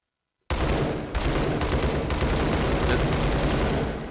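A SCAR 17 rifle in the H3VR virtual reality game fires 7.62 NATO rounds on full auto, a loud, continuous burst that starts abruptly after a short silence and carries on to the end.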